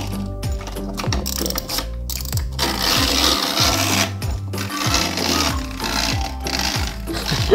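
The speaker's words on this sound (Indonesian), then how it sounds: "sekarang kita akan lihat si Doraemonnya jalannya seperti apa" A walking Doraemon vacuum-cleaner toy from a KFC kids meal whirring close up, its small gears ratcheting in quick repeated clicking cycles with brief pauses between runs.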